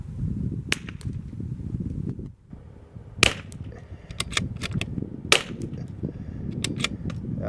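.22LR rifle shots fired with Eley ammunition at an outdoor range, heard as two sharp, loud cracks a couple of seconds apart, with smaller clicks and handling noises against a low rumble of background.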